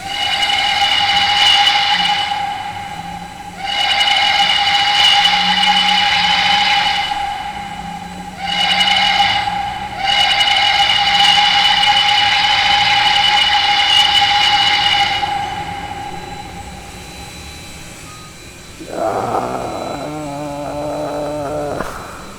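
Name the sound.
Banshee steam whistle of PRR I1sa 2-10-0 locomotive in Trainz 2019 video game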